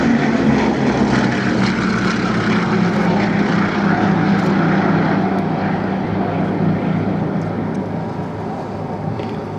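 A Bristol Blenheim, a big twin-engine propeller aircraft, drones loud and steady as it flies past, its engine roar holding for several seconds before easing slightly toward the end.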